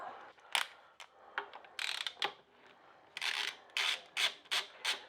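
Clutch nut on a Suzuki Bandit motorbike being turned off its thread by hand, giving a series of close, quiet metallic scraping and ratcheting rasps in short irregular bursts.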